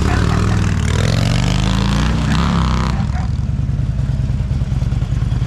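Harley-Davidson Ultra Classic on air suspension revving hard close by as the rider tries a wheelie, the roar swelling, then easing into a steadier engine drone.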